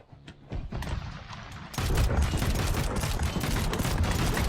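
Vehicle-mounted guns in the Trailmakers video game fire from underneath a flying craft, with sparse shots at first, then a dense, loud, continuous barrage of rapid bursts.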